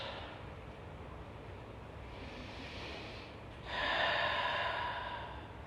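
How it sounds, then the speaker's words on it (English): Slow, deep breaths during a power yoga session, a long steady exhale-like hiss with a louder, fuller breath swelling near the end, close and unaccompanied by talk. "And just find 2 more deep breaths"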